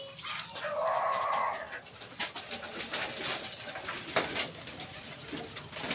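Pigeons coo softly in a poultry shed among native chickens, a low burbling call near the start followed by scattered clucks and rustling.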